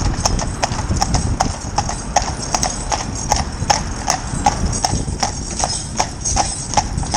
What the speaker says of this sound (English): A lovely big free moving horse.